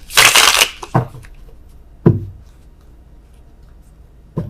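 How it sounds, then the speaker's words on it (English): Tarot cards are shuffled close up in one loud riffling burst, followed by a few separate taps and thumps as the deck settles, with quiet in between. "worst shuffling in the world"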